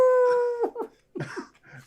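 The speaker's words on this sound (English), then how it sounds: "Dogs." A dog howls in a few drawn-out rising and falling calls, loud and close, with a brief whimpering quality between them.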